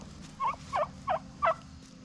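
A turkey gobbles four times in quick, evenly spaced bursts, close and clear over a low background hum.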